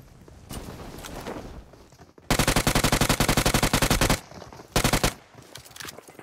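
Gunfire from a PUBG Mobile fight on the Sanhok map: a long, loud burst of rapid automatic fire, then a shorter burst a moment later, over a lower bed of background noise.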